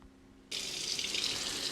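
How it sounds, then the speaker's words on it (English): Basmati rice is washed under running water: a steady tap stream starts abruptly and keeps flowing evenly at moderate volume, with no voices. "I washed the basmati rice nicely to get rid of all the impurities and wash it quite a few times."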